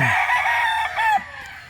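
A fighting gamecock stag crows once, close and clear, a brief strained cock-a-doodle-doo that breaks off partway through.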